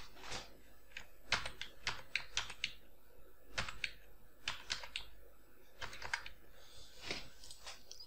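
Numbers being typed into an Excel 2007 spreadsheet on a computer keyboard, quiet irregular clusters of key clicks with short pauses between bursts, heard alone and fairly close.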